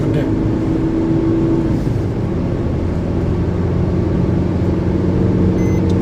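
A Maruti S-Cross car at highway speed of around 100 to 120 km/h, heard from inside the cabin as a steady, loud, deep road and engine drone that holds constant throughout.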